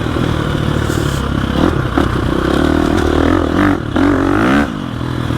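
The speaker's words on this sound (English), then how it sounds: "when you get it to higher RPM, it has this nice bark to it" A 2021 Gasgas EX 350F dirt bike engine revs up to higher RPM with a barking exhaust, several throttle blips rising and falling over a rough idle, close and loud with no voices.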